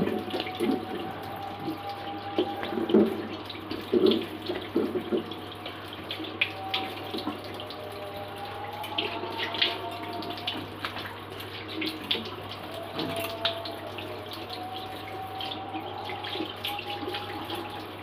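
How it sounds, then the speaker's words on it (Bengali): Plain tap water runs and splashes as a face pack is rinsed off, a continuous close gush with uneven bursts of splashing over a low steady hum, with no talking. "চলো এবার নর্মাল জল দিয়ে ধুয়ে নিই।"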